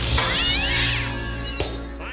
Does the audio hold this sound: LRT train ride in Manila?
no